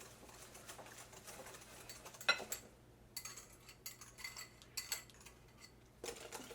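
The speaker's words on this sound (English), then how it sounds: "I'm gonna add the eggs. Then I'll start mixing immediately." Quick clinking and scraping of a whisk against a bowl, mixing eggs into a Portuguese custard tart mixture, in short uneven bursts with brief pauses, fairly quiet and close.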